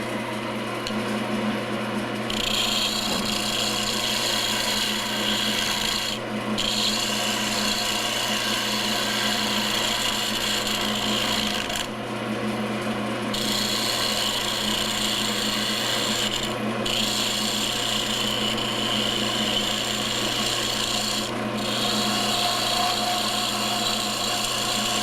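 Power tool shaping a wooden pin into a lumpy grip: a continuous loud abrasive rasp and motor drone, with brief breaks in the grinding every few seconds as the piece is repositioned.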